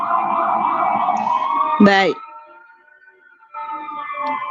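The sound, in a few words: sirens in busy traffic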